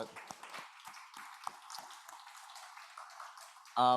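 A church congregation breaks into a sustained round of applause, a dense, steady patter of many hands at moderate distance, cut off at the end by a short electronic tone.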